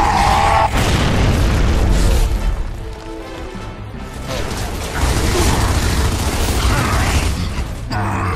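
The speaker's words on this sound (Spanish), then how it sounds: "¡Lanzando granada!" In Gears of War 2, a thrown grenade goes off with a loud, heavy boom and a rumbling, crashing debris tail, followed by a quieter lull and a second rising burst of combat noise.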